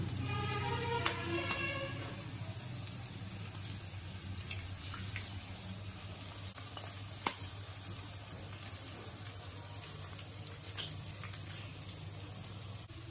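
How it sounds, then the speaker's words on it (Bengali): Eggs frying with boiled potatoes and vegetables in a wok for egg chowmein, a faint steady sizzle with scattered light clicks and taps over a constant low hum. "ডিম সবজি খুব সুন্দর করে ভাজা হয়ে গেছে।"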